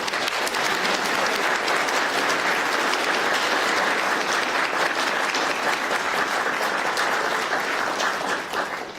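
A large audience breaks into steady, loud applause welcoming new citizens at a United States citizenship ceremony, dense clapping sustained throughout before tapering slightly at the end.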